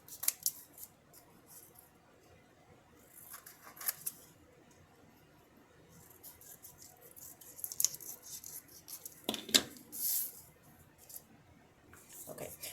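Scissors cutting pieces of a Summerween-themed paper pack, sparse crisp snips and paper rustles spaced irregularly across a quiet room, close to the microphone with no talking.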